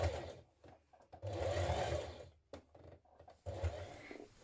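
A sewing machine runs in bursts while understitching a seam to a dress lining close to the edge, a steady whirring hum that starts and stops several times, with no talking.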